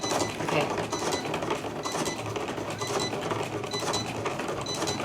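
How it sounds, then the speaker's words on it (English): A Cricut Explore 3 cutting machine runs steadily, giving off a continuous mechanical whir with faint clicking and ratcheting from its moving parts, close by and uninterrupted. "It's sending the information to the machine, I think, on what it wants to cut."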